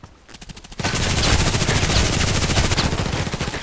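An RPK machine gun fires in the online shooter Contract Wars, a loud rapid sustained burst of evenly spaced shots after a few opening rounds.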